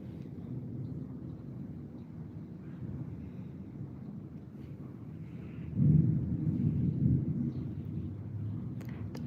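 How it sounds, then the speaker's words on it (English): Low, distant rumble of thunder rolling in a steady murmur, swelling louder partway through before settling back. "I could hear thunder."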